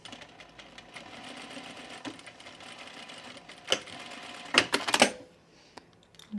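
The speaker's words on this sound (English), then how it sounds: "I'm just going to top stitch it down nice and flat." Sewing machine top stitching leggings fabric, a steady close mechanical running that carries on for about five seconds, with a few louder clacks near the end, then a quiet stop.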